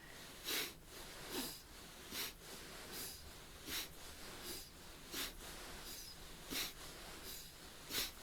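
Deep, rhythmic breathing during a beginner's cleansing yoga set in the Camel Ride exercise, each breath a soft, close whoosh repeating at a steady pace of about one per second.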